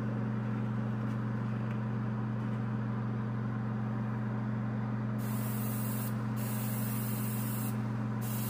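Acrylic paint sprayed from an airbrush at about 18–22 psi onto model car wheels, heard as a steady close hiss over a constant low compressor hum, with the spray cutting in and out in short bursts toward the end.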